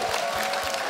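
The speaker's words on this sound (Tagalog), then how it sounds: "yung palakpak lang po ang binibilang, hindi kasama yung woo!" Studio audience of a noontime variety show clapping in a brief, dense burst of applause, loud and steady throughout.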